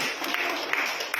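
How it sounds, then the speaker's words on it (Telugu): Loud, rapid clapping from a group fills a short burst, a dense run of hand claps close by with no break. "గట్టిగా చప్పట్లు కొట్టి"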